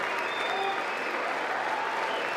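Sustained applause from a large audience at the State of the Union address, dense steady clapping filling the room with no breaks, with faint voices mixed in.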